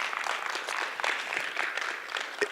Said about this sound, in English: we can clap it up for that, right?